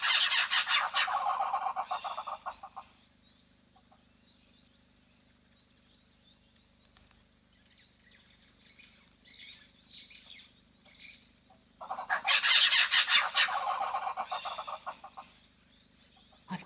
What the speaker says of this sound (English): I've got no idea what bird that was.